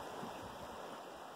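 A river flowing around rocks gives a steady, close rushing wash of water, continuous and moderately quiet with no voices.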